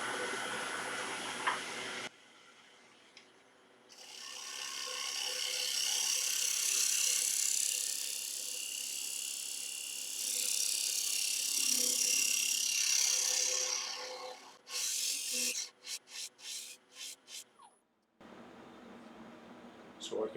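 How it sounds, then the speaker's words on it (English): A shear scraper cuts wood on a lathe with a sustained, fairly loud hissing scrape for roughly ten seconds. A quick series of rapid stuttering bursts follows as the tool lifts off, and a faint motor hum runs underneath. "And again, back to my little shear scraper."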